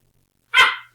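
A new puppy gives a single sharp bark indoors, close and clear, surrounded by near silence.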